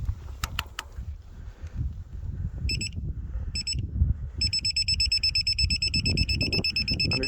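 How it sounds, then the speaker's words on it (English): An electronic tool emits short bursts of high beeping that become a rapid continuous beep, over low mechanical clicks and rustling nearby. "the LEDs are going to start to flash, and it's going to beep at you"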